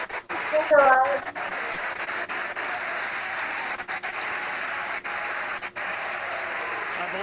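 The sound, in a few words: crowd cheering at SpaceX Crew 3 launch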